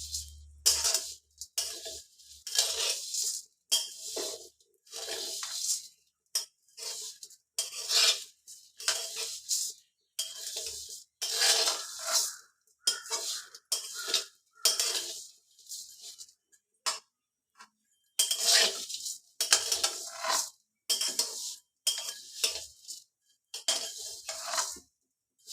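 Vermicelli (simui) being fried until reddish-brown in a pan, a metal spatula scraping and clinking against the pan in quick, repeated strokes, close and fairly loud with no talking.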